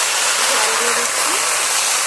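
Water pours into a hot pan of greens frying with chillies, making a dense, loud, continuous hiss and rush from start to finish.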